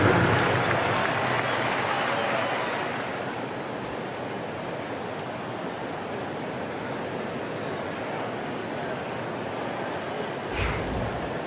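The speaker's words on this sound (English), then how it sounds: "Applause for your laser dancer." Crowd applause fills an NBA 2K25 arena during a Thunder versus Blazers game, a dense, steady wash of clapping and cheering that swells at the start, then holds evenly. A short burst sounds near the end, with faint commentary underneath.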